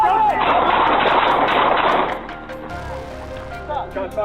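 Gunshots during a police confrontation: a loud, dense burst of rapid fire lasting about two seconds, then a quieter stretch with shouting voices.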